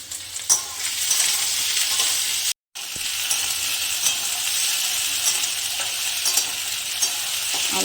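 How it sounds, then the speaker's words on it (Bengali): Oil sizzles and crackles steadily in a pan while frying ingredients for a Bengali potato chachchari, loud and close, with one brief silent break. "তেলটা একটু লাল লাল করে ভাজা হবে"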